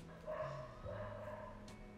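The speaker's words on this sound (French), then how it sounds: "Il y a plein de chiens qui sont en train d'aboyer." Many dogs bark and yip at a distance, a faint, drawn-out chorus of overlapping calls that fills the background at low volume.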